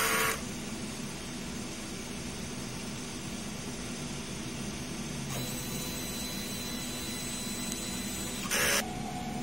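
A DTF printer runs a print head clean cycle, holding a loud, steady mechanical whir and hiss throughout, with a short burst of noise at the start and another near the end.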